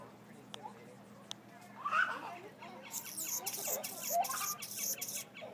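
An Anna's hummingbird in a Sonoran Desert Museum enclosure gives quick, scratchy chips and buzzy squeaks close by, bursts of sharp high-pitched ticking in the second half, over faint background hum.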